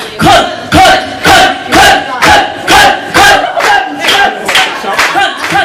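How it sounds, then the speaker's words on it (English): A lively women's crowd at a comedy performance chants a single word in unison, about a dozen loud rhythmic shouts in a steady beat, close and energetic. "Right, now we can just start chanting the word because we've,"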